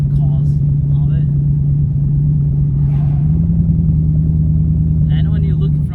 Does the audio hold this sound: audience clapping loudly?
no